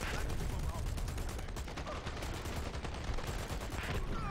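A video game match with a rapid, continuous burst of gunfire and explosive airstrike impacts, dense and loud for several seconds with no clear talk.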